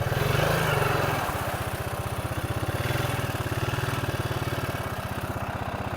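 A Honda ATV engine labours in thick mud, a steady, close, rumbling drone with a fast regular pulse that surges briefly at the start and then holds under strain.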